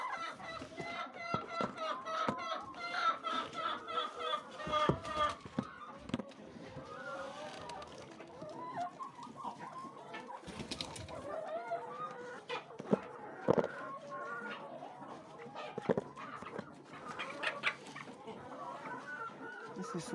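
Laying hens on a poultry farm cluck and murmur continuously, close and busy, with occasional louder calls and pecking noises and a person talking intermittently.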